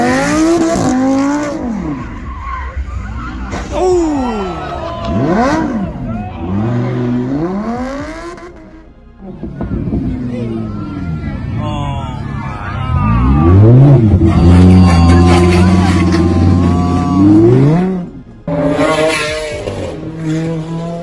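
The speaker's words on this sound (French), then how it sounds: "Une voiture roulant à vive allure" A supercar speeds past with repeated loud revs and rising and falling engine sweeps, gear changes and tire squeal, close and loud over about twenty seconds, with voices talking underneath.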